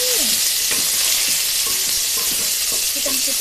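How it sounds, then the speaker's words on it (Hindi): Chicken pieces fry in a hot pan for chicken macaroni, a loud, steady sizzle up close, with a spoon or spatula scraping and clinking as the meat is stirred. "अब मैं इसमें चिकन ऐड कर दूँगी"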